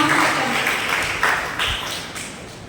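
Audience applause at a Gujarati literary and arts honour ceremony in Banaskantha, greeting Vinodbhai on stage; steady broadband clapping throughout, fairly close and moderately loud, slowly tapering, with no one speaking over it.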